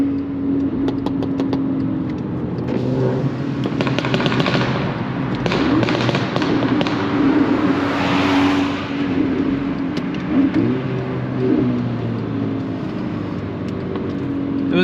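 A Volkswagen MK6 GTI, front-wheel drive, runs with a steady, smooth engine drone close by, low and continuous throughout with a few sharper crackles over the top and no talk.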